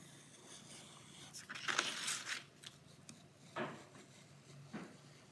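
Scissors cutting out a piece of pump lining fabric, a few faint close snips and rustling cuts spread unevenly across a quiet room, no talking.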